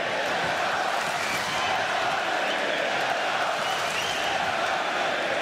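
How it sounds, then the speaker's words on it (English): A huge boxing arena crowd chants for fighter Tszyu, a dense, steady roar of many voices filling the whole stretch without a break. "this huge crowd chants for Tszyu"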